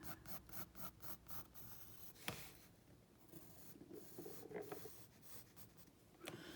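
Pencil drawing a leg on paper, with rapid scratchy back-and-forth strokes, then longer sweeping lines. The sound is close and faint, with no talking.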